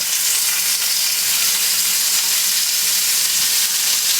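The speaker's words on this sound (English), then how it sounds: "It's all sizzling." Steady, dense sizzling of frozen chicken frying in a hot pan, loud and close, with a continuous crackling hiss throughout.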